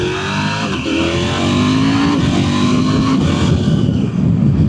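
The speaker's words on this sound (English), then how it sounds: "Bi-directional quick shifter, of course. Quick shifter up, blipper on the way down." A KTM 790 Adventure motorcycle engine rises loudly through the revs in a continuous close drone, with a bi-directional quick shifter and auto-blipper on the gear changes and no speech over it.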